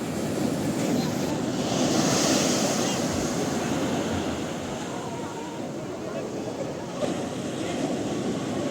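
Ocean waves at Digha beach at night wash in with a steady, broad rushing roar, swelling and easing slowly, with wind buffeting the microphone and faint voices in the background.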